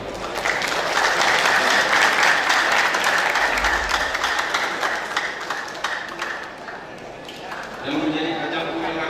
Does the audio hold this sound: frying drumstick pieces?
no